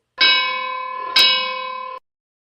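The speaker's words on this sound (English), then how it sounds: "Opening bell." A bright metallic bell struck twice, the second strike about a second after the first, each ringing with clear sustained harmonics, used as an opening-bell cue for a wrestling segment.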